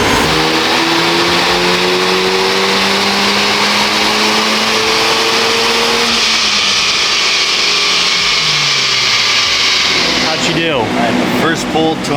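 A Honda Civic Type R FL5 sits on a dyno with its engine droning steadily, pitch climbing then falling back, before a rising rev near the end; continuous and loud, with voices faintly present.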